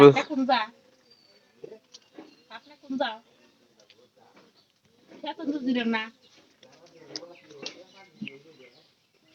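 Domestic pigeons coo softly in short bursts between stretches of someone talking nearby, the calls low and close with quiet gaps between them.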